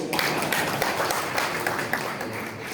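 An audience at a regional Indonesian Ulema Council (MUI) assembly gives a short burst of dense, even applause, loud and continuous from start to finish.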